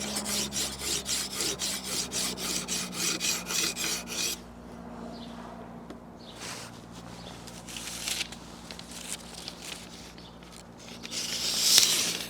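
A knife is stroked repeatedly across a KMFS Vantaedge sharpener, forward and back in a rhythmic rasp at first, then slower scattered scrapes, ending in a brighter grinding pass.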